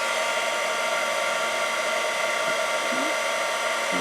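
A heat tool blows hot air onto shrink film, a loud, steady close-up whirring roar that holds constant throughout with no talk.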